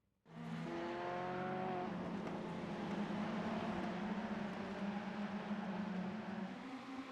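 A pack of race cars launching from the start in a racing game replay: engines rise together in a rising whine, then hold a steady, loud, dense roar with many cars revving at once.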